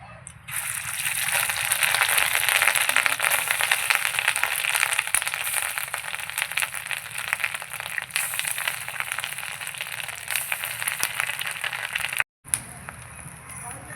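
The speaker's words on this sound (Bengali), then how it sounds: "মাছের ডিমের বড়াগুলো উল্টে দিচ্ছি একবার।" Fish roe fritters deep-frying in hot oil, a steady loud broadband sizzle and crackle running almost the whole time, with a brief dropout near the end before the frying resumes.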